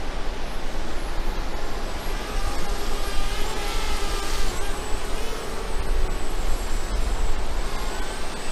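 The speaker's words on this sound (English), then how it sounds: "so we're going to land the drone" DJI Spark drone flying, a steady high-pitched rotor whine that holds loud and close throughout, with a broad rushing hiss beneath it.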